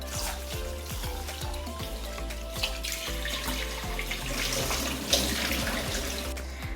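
Biryani rice is washed in plenty of water, with continuous running and splashing water and the wet clatter of grains being swished around by hand, no voices.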